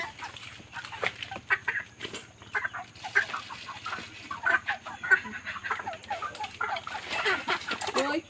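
Chickens being carried through mud to market cluck in a busy, steady chatter of short calls close by, with a low rumble underneath and no clear talk.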